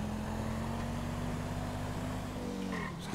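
A car engine drones steadily while driving in the video game GTA 5, a continuous low hum at moderate level that shifts slightly near the end as the vehicle slows.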